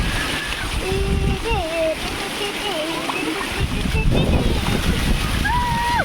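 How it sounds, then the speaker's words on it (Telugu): Water pours and splashes at the Edupayala temple dam in a steady, loud broadband rush, with people talking over it throughout. "నీళ్ళు పడుతున్నాయి"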